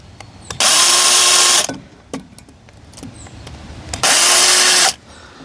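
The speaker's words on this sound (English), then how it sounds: "I'm just going to drill a quick kind of mark for where we're going to have the" A power drill marks bolt holes for mounting a Vevor retractable garden hose reel, firing in two loud sustained bursts of about a second each with a short pause between them and faint clicks in the gap.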